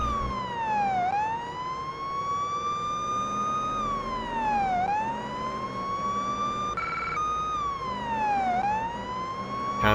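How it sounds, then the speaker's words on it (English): A police car siren from the video game Police Simulator: Patrol Officers wails in long, repeating rising and falling sweeps, loud and continuous, with a faint engine hum underneath. "you get to drive around with your lights and sirens on"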